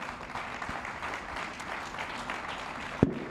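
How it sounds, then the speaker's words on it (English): Audience applause for three speakers at an investment conference on Italy, a soft, distant patter of many hands clapping steadily, with one sharp thump near the end. "let's give them a round of applause"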